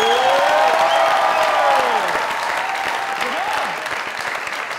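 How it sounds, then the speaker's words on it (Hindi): Loud studio audience applause on a Pakistani comedy talk show, sustained clapping from a large crowd that fades gradually over several seconds, with a few faint whistles or cheers. "जोरदार तालियां।"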